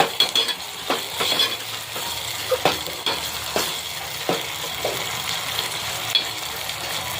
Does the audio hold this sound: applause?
no